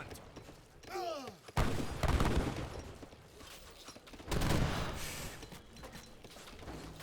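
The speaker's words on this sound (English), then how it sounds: "Organ guns to hit those longbowmen. They do find a volley on one of them." Organ guns fire volleys at longbowmen in an Age of Empires 3 battle, with a sharp crack followed by two dense, booming bursts of massed gunfire over a background of clashing combat and ambient battlefield noise.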